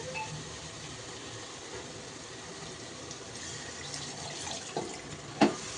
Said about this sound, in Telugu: ఇప్పుడు అందులోకి వాటర్ వేసేసుకుందామండి మనము